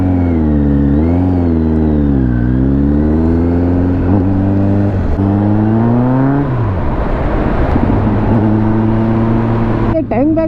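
Motorcycles, a KTM Adventure 390 and a Kawasaki Z900, rev loudly nearby and then pull away, their engine pitch rising and falling through several gear changes as voices talk over them.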